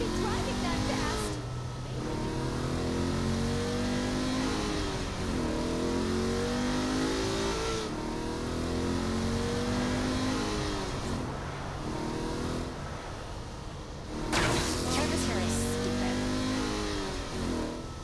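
A car engine revving hard while driving fast in the video game Saints Row: The Third, with repeated rising and falling revs across gear changes, loud and continuous under talk.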